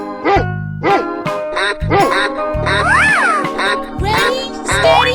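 Cartoonish animal calls from a 3D animal slide video game, including a dog's barks, come as a rapid series of bright, repeated yelps over steady game music.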